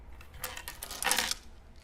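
A big handful of dice rattles and tumbles in quick bursts, with a louder clatter in the middle and no talk over it.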